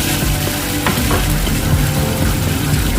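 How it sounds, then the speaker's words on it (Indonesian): Bay leaves, torn leaves and ground spice paste sizzling and being stirred in a hot pan for a young papaya and petai dish, a loud steady crackle with scraping stir strokes up close. "daun salam juga saya masukkan, kemudian saya oseng-oseng"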